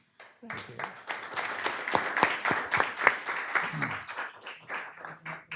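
Applause from the audience at a mayor and commissioners workshop meeting, a dense patter of many hands that holds steady for several seconds and tapers, with voices murmuring beneath it.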